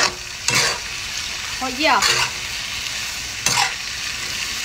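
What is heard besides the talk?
stir-frying shrimp tails in a hot wok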